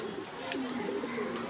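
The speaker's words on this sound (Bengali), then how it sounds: "এটা বিআরপিএল ক্লাবের কবুতর" A 2021 racing pigeon from a club loft coos in low, soft repeated rolling notes, close by, with faint background voices.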